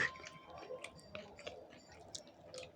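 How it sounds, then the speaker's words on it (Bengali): Someone eating goat tripe curry with puri, chewing softly and close by with faint, irregular moist clicks and squishes, very quiet throughout, with faint voices in the background. "এই যে দেখুন দেখুন উনি খাচ্ছে"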